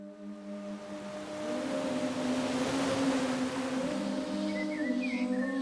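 Warm outdoor ambience in Costa Rica, with a broad hiss like surf or wind, sustained tonal hums, and small chirps near the end, all steady and without voices.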